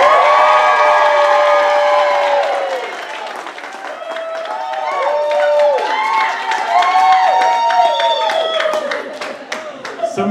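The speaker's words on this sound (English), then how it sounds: "we're going to clap and yell really loud" A large indoor audience claps and yells as loud as it can for a few seconds, a dense wall of applause and high-pitched whoops and screams that peaks at the start, dips, then surges again.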